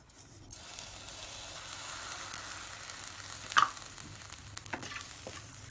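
Cumin and nigella seeds dry roasting over low heat in a pan while making green chili pickle, giving a soft steady sizzle with a faint scrape or tap near the middle.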